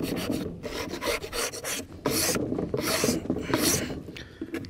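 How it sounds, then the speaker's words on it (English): A hand scraper rasps excess paint off a hot, wax-dipped wooden bee box, giving repeated rough scraping strokes close up with short pauses between them, with no talk. "I thought I'd get this scraper and just scrape off the extra paint"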